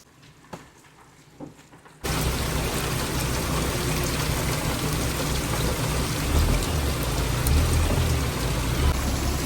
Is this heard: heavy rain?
yes